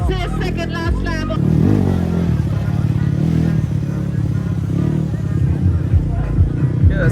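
Dirt bikes race on a muddy monsoon track in Pokhara, with engines revving and droning steadily at a distance under a continuous commentator voice and crowd chatter.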